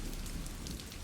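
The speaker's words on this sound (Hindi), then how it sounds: "बाहर बारिश अब भी लगातार बरस रही थी।" Steady rain falls outside a house at night, a dense, even hiss of drops with no break and no voices over it.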